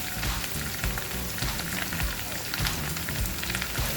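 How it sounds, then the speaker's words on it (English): Potatoes and onion frying in butter in a pan, a loud, dense sizzle with constant crackle and a few stirring scrapes, close up and without speech. "They're cooking in the butter."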